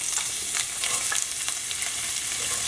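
Onions fry in hot oil in a pan preheated for about a minute, giving a continuous, close, bright sizzle with small crackling pops and faint stirring scrapes throughout.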